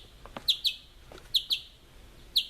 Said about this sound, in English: I have to listen to this water running and birds singing.